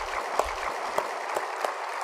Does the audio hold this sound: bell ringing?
no